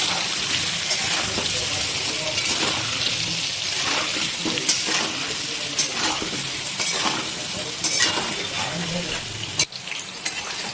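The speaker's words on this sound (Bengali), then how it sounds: "হলুদের গুঁড়ো দিয়ে এবার এটাকে লাল লাল করে ভেজে নিতে হবে।" Steady crackling sizzle of potatoes frying with turmeric in a pan, with occasional scraping stirs, continuous and close throughout.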